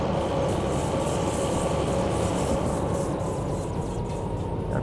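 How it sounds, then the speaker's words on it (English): A train rumbles past in the Derail Valley simulation game, a loud continuous low roar with a faint steady hum above it, the passage of cars holding even throughout without voices. "Wait for the end of the train to go by."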